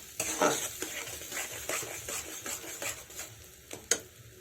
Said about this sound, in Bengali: ঝুড়ি ভাজা করে নিতে হবে